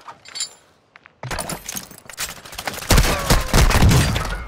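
Gunfire in the Call of Duty Warzone video game: a few sharp cracks, then dense rapid bursts of automatic fire that grow louder and denser toward the end, with no voices.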